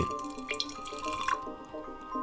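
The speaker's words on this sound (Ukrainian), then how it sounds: "Відміряємо рівно 50 грамів води." Water is poured in a thin trickle into a small container on a jewelry scale, measuring out 50 grams; soft dripping and splashing sounds, quiet and close, with no talk.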